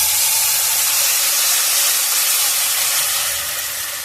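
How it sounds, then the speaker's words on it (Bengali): Semolina and sago batter is ladled into a hot, oil-brushed wok and sizzles loudly, a dense, steady hiss close by that eases a little toward the end. "এবার আমি 1 হাতা ব্যাটার কড়াইয়ের মধ্যে দিয়ে দিলাম।"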